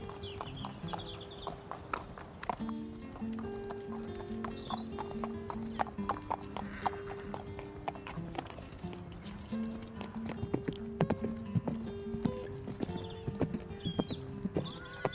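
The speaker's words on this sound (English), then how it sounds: "I think that Lola quite enjoys just doing a little bit of flat work" Horse hooves clip-clopping in the horse-riding game Star Stable during flat work in an arena, a steady walking rhythm of close hoofbeats with occasional whinnies and birdsong, with no talk.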